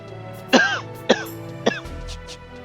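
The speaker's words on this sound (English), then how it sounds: "Sorry about all the coughing." Three sharp, close coughs in quick succession, evenly spaced, each a short harsh burst over a quiet background.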